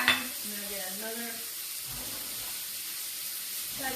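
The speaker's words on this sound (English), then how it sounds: "So we're gonna add our shrimp. That we just seasoned. Goes right in the pan." Seasoned shrimp go into a hot frying pan and set off a bright, steady sizzle that stays loud for a few seconds, with a brief voice at the very start.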